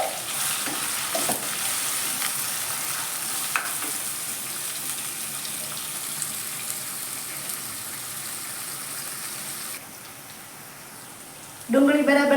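Finely chopped onions with garlic-ginger paste sauté in a pan for sev usal, making a steady, fairly loud sizzle that softens near the end before a brief clatter of the utensil.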